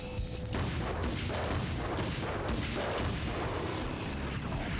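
Heavy, sustained gunfire fills the air in the video game Alan Wake's American Nightmare, dense booming shots overlapping with no pauses, loud and close throughout.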